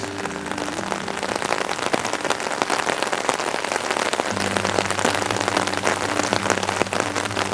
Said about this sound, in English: really bad, raining like crazy.